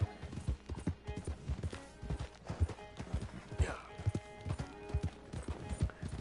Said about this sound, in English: I like to ride on the road